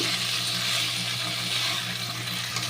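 Winter vegetables frying in a cooked-down spice paste with oil for a vegetable dal, a steady close hissing sizzle throughout with no talk.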